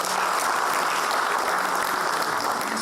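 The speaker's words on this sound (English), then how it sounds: "let's give him a round of applause" Dense, continuous applause from a crowd at a men's business leadership conference, loud and even throughout with no voices over it.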